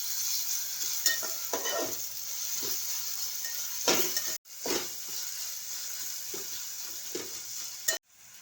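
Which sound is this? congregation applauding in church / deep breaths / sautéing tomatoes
sautéing tomatoes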